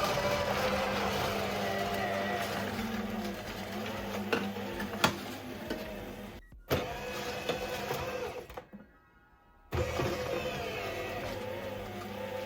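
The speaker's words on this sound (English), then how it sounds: "The pineapple definitely made the motor work harder." A Hysapientia SD603 cold press juicer motor grinds frozen pineapple chunks with a steady, straining mechanical whir and rattling knocks, close and fairly loud, cutting out briefly twice before resuming.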